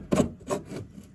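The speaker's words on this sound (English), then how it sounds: "we'll take your plastic tool, come up behind your fitting like so" Plastic trim tool working behind a fitting on a 5th-gen Ram 1500 while mud flaps are fitted, two short scraping rubs close up, quiet and alone.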